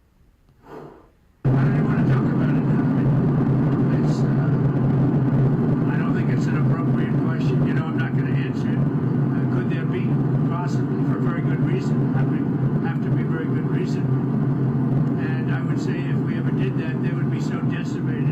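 Air Force One's engines give a loud, steady airplane cabin roar that starts abruptly and drones continuously, muffling faint voices underneath.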